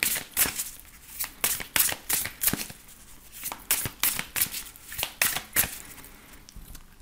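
Tarot and oracle cards are shuffled and cut by hand in quick, papery riffling bursts, close and fairly loud, repeating in an uneven rhythm for about seven seconds with no voices.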